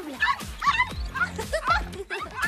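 A dog barks and yips in a rapid series of about six sharp, close, loud barks with whimpering tones.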